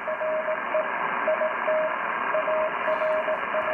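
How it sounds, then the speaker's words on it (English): CW Morse code heard on a noisy 40 meter amateur radio band near 7047, a thin beeping tone keying dots and dashes buried under loud steady static hiss. "Now you can hear it there in the noise, the CW Morse code."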